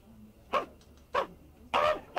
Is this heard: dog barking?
yes